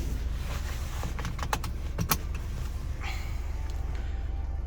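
A seatbelt is buckled inside a Hyundai Santa Fe 2.2 CRDI: a few quiet, sharp clicks and a rattle of metal over a low, steady cabin hum, with no talking.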